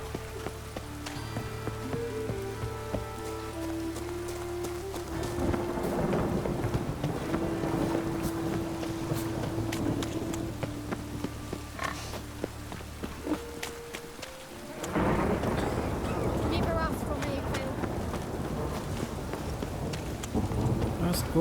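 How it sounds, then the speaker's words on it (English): Steady heavy rain pours down with rumbling thunder in the video game The Witcher 3 near the docks, a dense wash of sound that swells again partway through, with no voices over it. "Nossa, como chove aqui, né?"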